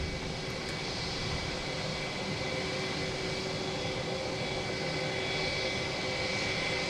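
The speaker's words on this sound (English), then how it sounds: "Next to arrive is a Delta A321neo coming in from Atlanta." A Delta Airbus A321neo arriving at Boston Logan Airport from Atlanta gives a steady, fairly faint jet drone with a constant high whine and no one talking.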